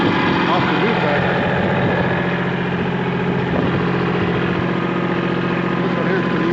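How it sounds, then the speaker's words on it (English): A new tractor's engine idles and chugs steadily at close range, a continuous low mechanical rumble with vibration that holds an even level throughout. "Maybe you'll get to see some live action off the new tractor."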